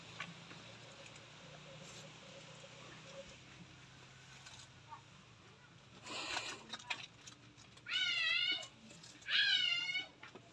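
A cat meows twice near the end, two clear, close calls with a rising-falling pitch, after quieter rustling and faint household sounds.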